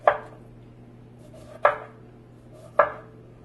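A knife cuts a lime into wedges on a cutting board: three sharp, close chops spaced about a second apart, each followed by a quiet gap with a faint background hum.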